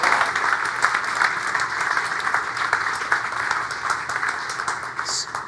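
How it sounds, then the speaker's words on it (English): Audience applause at a brewing industry panel talk, a steady wash of many hands clapping throughout, fairly close and even in loudness. "Round of applause for Joe."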